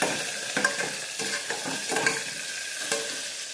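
Vegetables for vegetable pulao with mint frying in oil, a continuous close sizzle broken by repeated scraping stirs of a spoon in the pan.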